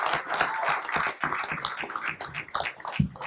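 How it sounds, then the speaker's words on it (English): A small audience at an addiction information forum for first responders claps together, a dense patter of hands that holds steady for a few seconds and then tapers off. "If we could give them a round of applause for giving us a nice lunch today"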